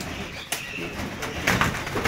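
Pigeons cooing nearby with throaty, rolling calls, joined by a brief flutter and scattered sharp noises in a busy outdoor space.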